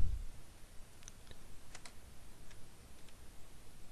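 Someone types at a computer keyboard. Quiet, scattered key clicks come in short bursts, close but faint, with no talking.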